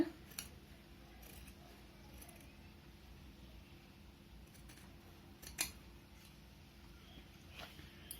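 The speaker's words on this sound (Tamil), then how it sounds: "வெளி வளைவு கட் பண்ணும்போது 4 துணி சேர்த்து அப்படியே கட் பண்ணுங்க" Scissors cutting through four stacked layers of cloth along an outer curve, faint sparse snips and clicks, close but quiet, over a low background hum.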